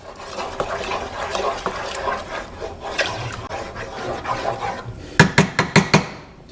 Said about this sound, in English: So we're going to give this a good stir.